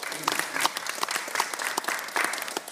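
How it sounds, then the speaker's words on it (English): An audience applauds for a visiting mayor at a Changsha City education exchange event, a steady mid-distance round of clapping that runs through the whole moment. "let's give him a big applause"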